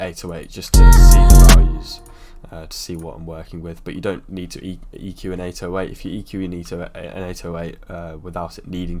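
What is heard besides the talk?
No distinct noise like a dog, phone or traffic.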